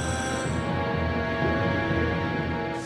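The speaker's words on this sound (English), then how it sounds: "So what you're hearing right now is actually Endless Ocean 2's boss music." Sustained ominous boss-theme music from the video game Endless Ocean 2 plays steadily and fairly loud, a dense layered tone with no talking.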